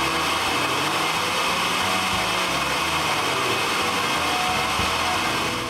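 A CNC router cutting holes into a wooden laptop case for a Raspberry Pi runs as a steady, loud, dense whine with rumbling low variation throughout, close and without talk.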